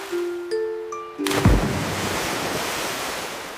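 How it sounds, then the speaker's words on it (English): A cartoon-style water splash effect for a whale in a children's water park scene: a few tonal blips, then a sudden loud splash that settles into a sustained watery hiss, with no talking. "Splash."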